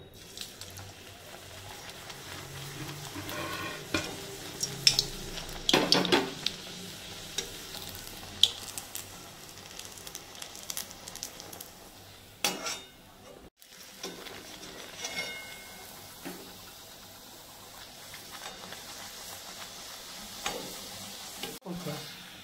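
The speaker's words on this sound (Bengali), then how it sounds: "কড়াইতে তেল দিয়ে দিচ্ছিলাম আগে, তেলটা গরম হয়ে গেছে, এখন আমি লুচিটা ছেড়ে দেবো" Sabudana (sago) luchi dropped into hot oil in a kadai, a soft continuous sizzle with bursts of bubbling and occasional stirring clatter, fairly quiet and close, no talking.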